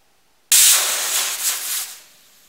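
Steam hisses from a pressure cooker cooking dal for puran poli, bursting on suddenly and loud as a broad steady rush that wavers slightly, then eases toward the end, with no talk.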